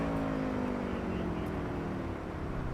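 Motorcycle ridden in the video game Cyberpunk 2077, a continuous engine drone with shifting pitch, loud and steady throughout.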